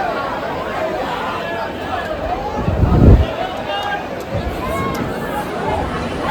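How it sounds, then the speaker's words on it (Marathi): A dense crowd of devotees packs the Lalbaugcha Raja darshan in Mumbai, a continuous babble of many voices around the listener with a brief louder swell of nearby movement and wind. "इकडे गर्दी बघा फुल"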